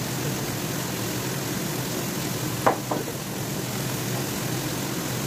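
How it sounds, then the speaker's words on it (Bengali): Spices frying in a pan, a steady soft sizzle running throughout with a couple of brief clinks of a utensil midway, no talking. "এবার মশলাগুলো ভেজে নেবো।"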